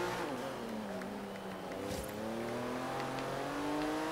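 An Audi race car in Forza Horizon 3 revs hard, its engine note climbing steadily in a loud, continuous whine through the gears, with a brief thud midway and a faint voice barely present.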